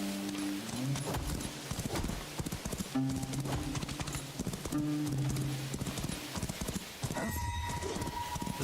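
Horse hooves clip-clop steadily in an MMO video game, a quick rhythmic trot sounding close and fairly loud over game music and a brief whinny-like call.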